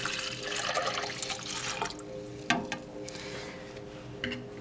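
Water poured from a container into a vessel for a food dye and bleach experiment, a steady splashing stream for two seconds followed by faint trickles and drips, quiet with no talking.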